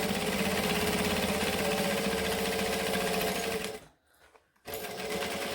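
A sewing machine stitches a bag at close range, a loud continuous whir that cuts out briefly near the end and then resumes for the short back stitch.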